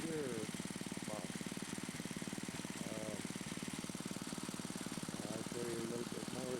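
A motor and gearbox drive a small trommel, a steady mechanical hum with a fast regular pulse that runs close and continuous the whole time, with faint voice-like sounds over it.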